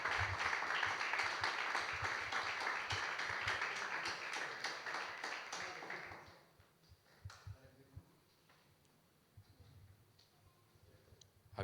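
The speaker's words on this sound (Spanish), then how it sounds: "Les damos un aplauso de bienvenida." A church congregation gives a welcome round of applause at an evening service. The clapping is full and continuous for about six seconds, then stops abruptly, leaving a quiet room with a few scattered taps and faint murmurs.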